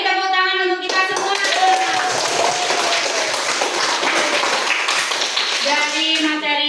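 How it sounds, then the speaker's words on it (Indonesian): A classroom of children applauds together for several seconds in a dense, even burst of clapping. Voices speak briefly before and after it. "Beri tepuk tangan untuk kita semua."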